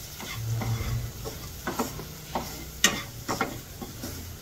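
Coriander, sambar chilli and cumin powders sauté in oil over low heat for a vatha kuzhambu, with a soft steady sizzle broken by scraping stirs and small ladle clicks against the pan.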